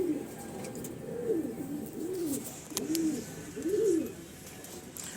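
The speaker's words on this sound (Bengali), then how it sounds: "বিডার পায়রাগুলোকে ছেড়ে আপনাদেরকে দেখাচ্ছি।" Pigeons at a loft, several soft throaty coos repeating about once a second, close and clear over a quiet background.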